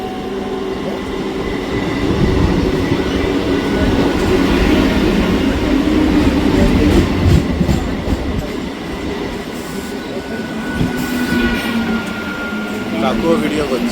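A morning Sealdah–Krishnanagar local train runs near Belgharia with a loud, continuous rumble and rattle of carriages that stays steady throughout, heard from on board.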